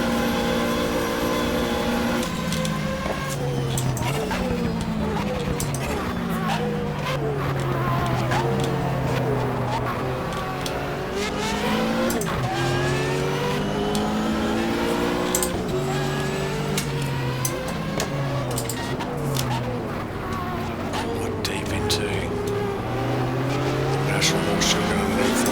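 In the GTR2 video game, a Stadler Porsche race car and others lap Daytona in a 1995 24-hour race. Engines rise and fall in repeated revving sweeps through the gears, heard closely and continuously beneath a commentator's voice.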